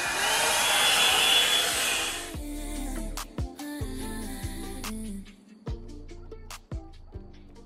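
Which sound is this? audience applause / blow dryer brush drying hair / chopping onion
blow dryer brush drying hair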